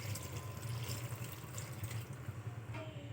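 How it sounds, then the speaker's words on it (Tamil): Water pours steadily into a pot of curry as it cooks, a continuous close splashing wash that runs without pause for a few seconds, with no talk over it. "இப்போ தண்ணி ஆட் பண்ணிக்கலாம்."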